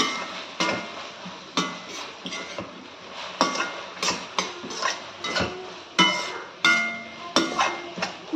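A spoon scrapes and clanks repeatedly inside a pot while tomato khichdi is stirred, with an irregular rhythm of metallic knocks and scraping, close and moderately loud.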